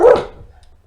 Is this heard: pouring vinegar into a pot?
no